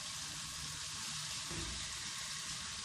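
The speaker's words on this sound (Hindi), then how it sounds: "अब इसको अच्छी तरह फ्राई करेंगे" Chicken pieces frying in a pan for chicken jalfrezi after the tomatoes have gone in, giving a steady, even sizzle that holds at one level throughout with no voices.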